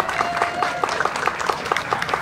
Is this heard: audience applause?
yes